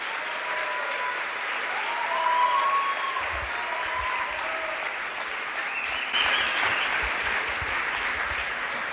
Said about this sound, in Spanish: Un fuerte aplauso para Miklos Lukács.